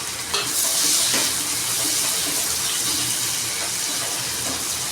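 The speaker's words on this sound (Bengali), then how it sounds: "এবারে আমি এই তেলের মধ্যে পেঁয়াজ কুচিগুলো ছেড়ে দেব পেঁয়াজ কুচিগুলোকে ছেড়ে দিলাম" Chopped onions frying in hot oil in a pan make a loud, continuous sizzle with stirring scrapes, close up and without speech.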